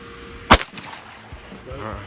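One sharp, loud crack from a .17 HMR rifle firing Hornady ammunition at a groundhog, decaying quickly into faint outdoor ambience, with soft voices afterward.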